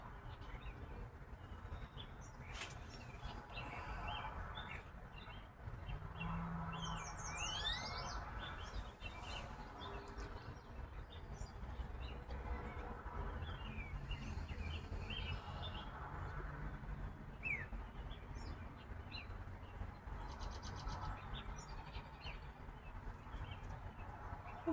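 Birds chirp outdoors in scattered, faint tweets and calls over a steady background hum, with occasional light clopping noises and little talk.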